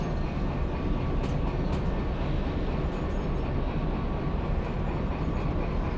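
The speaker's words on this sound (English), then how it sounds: "we're driving trains at the moment" A locomotive in the Derail Valley train game runs steadily and loudly, with a constant rumbling roar and faint high clicks throughout and no voices.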